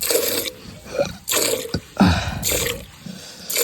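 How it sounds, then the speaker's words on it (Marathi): Rhythmic squirts of milk from hand-milking a cow splash into a container in short repeated bursts, close and fairly loud, with soft rustling between strokes. "तर दूध काढत आहे मी, इकडे दूध काढून राहिलं, सांडून राहिलं"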